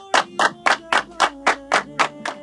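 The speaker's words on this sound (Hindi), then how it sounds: "तालियां।" Rhythmic hand clapping at a celebratory meal among friends, about nine sharp, evenly spaced claps close by, like a small group clapping in unison, with no talk over it.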